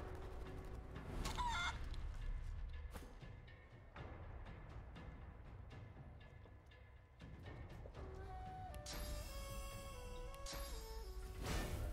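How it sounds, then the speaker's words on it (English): In Divinity: Original Sin 2, a character turned into a chicken gives faint clucks and a squawk, quiet under game sound effects and rising musical tones. "You turn him into chicken."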